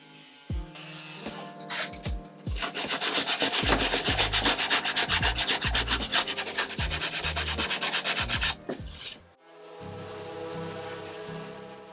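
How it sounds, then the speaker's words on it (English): Sanding a used, scratched wooden furniture piece inside and out, a loud rapid rasping scrub in a long continuous rhythmic burst between quieter pauses, with music playing in the background. "I'm sanding everything inside and out"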